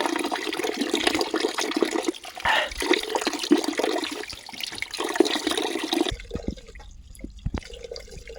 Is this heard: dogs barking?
no